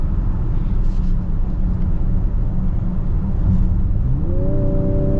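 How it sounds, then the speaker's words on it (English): A 2024 Ford Edge ST SUV speeds up on a highway. Loud, steady cabin rumble and road noise build throughout, and a rising engine tone climbs near the end. "we're getting our highway acceleration here in just a moment."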